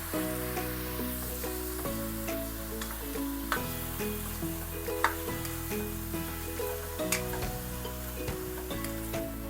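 Pork belly sizzling as it sautés in a pan, with a steady sizzle under music and a few sharp clicks and taps of stirring.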